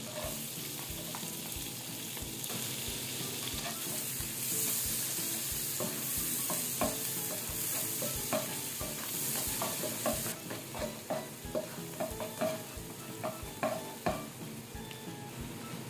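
Garlic sizzles and fries in margarine in a pan, a steady close hiss broken by scraping stirs that grow more frequent toward the end.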